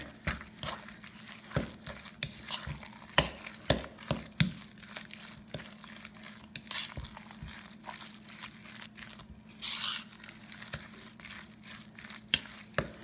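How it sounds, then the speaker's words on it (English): Meatball mixture being mixed together by hand for a holiday hors d'oeuvre, giving close, soft squelching and crinkling pats in an irregular rhythm with a steady low hum beneath. "And then you take all this and you mix it up together."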